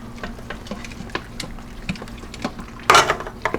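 Spoon scraping and stirring through thick mac and cheese with melted mozzarella in a pressure cooker pot, giving soft intermittent clicks and scrapes, closing on a louder, denser burst of stirring.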